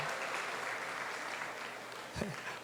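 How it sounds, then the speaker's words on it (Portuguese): Church congregation applauding during a homily, a steady broad wash of clapping throughout with a brief low voice sound near the end. "Muito bem, uma salva de palmas"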